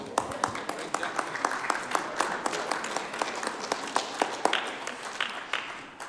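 A room full of people claps in sustained applause, with scattered individual claps standing out and some voices faintly mixed in underneath.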